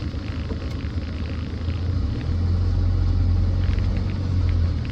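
Land Rover Defender 90 TDCi County diesel pulling away, a low steady engine rumble that grows slightly heavier partway through as it drives off, no talking.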